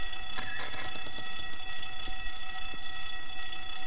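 A fire alarm rings steadily throughout, a continuous shrill electronic bell in the point-and-click adventure game The Longest Journey, unbroken for several seconds with a few faint thuds beneath it.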